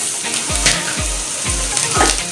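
Spices and herbs fry and get stirred in a pan for Padang-style gulai cincang, with bay leaves, lime leaves, turmeric leaves and asam kandis. A steady sizzle runs under four evenly spaced scraping stir strokes.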